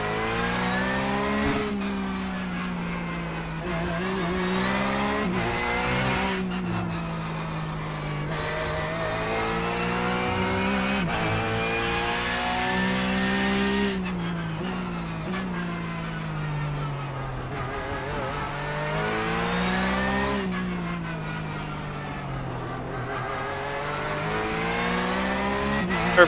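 A Porsche Cup race car in iRacing laps the Okayama circuit. The engine drones and revs steadily, and the pitch rises and falls through repeated upshifts and downshifts. There is no talk.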